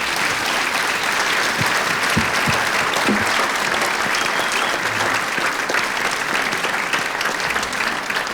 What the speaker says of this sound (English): A big applause for our two gentlemen.